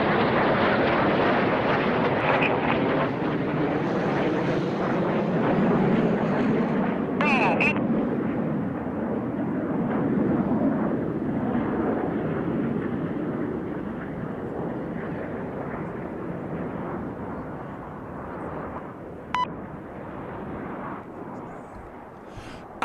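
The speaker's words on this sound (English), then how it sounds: "They'll be looking to pass each other in the middle at only 30 metres." Red Arrows jets fly a display at the 2024 Goodwood Festival of Speed, a loud, sustained roar of engines overhead that swells and slowly fades.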